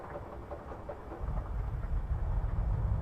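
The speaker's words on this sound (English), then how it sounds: "Alright, we got a good engine start." Twin-engine Piper Seneca V aircraft engine starting in a flight simulator game, a low rumbling build-up that settles into a steady, throbbing idle.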